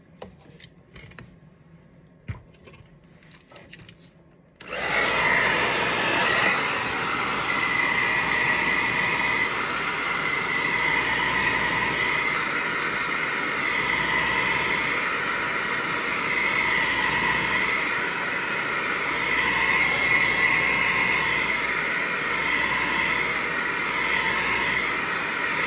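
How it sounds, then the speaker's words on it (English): Blow dryer switching on after a few quiet seconds and then running with a steady loud whooshing roar, close by and unbroken to the end, during a wet and wavy wig installation. "All right, blow dryer."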